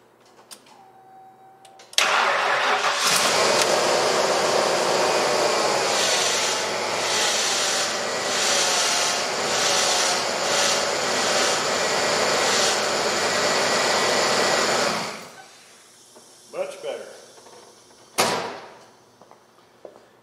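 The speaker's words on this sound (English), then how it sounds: "these Ford power steering pumps are always loud, more so with the hood up" A power steering pump on an OBS Ford F250 4x4 runs with the hood up, giving a loud, steady whirring roar for about thirteen seconds before cutting off, followed by a few scattered clunks.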